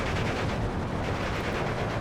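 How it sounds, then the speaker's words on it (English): Mortar fire in the World War II strategy game Steel Division 2: a dense, continuous roar of rumbling blasts and crackling gunfire, loud and unbroken throughout. "even though we're taking some big mortar fire"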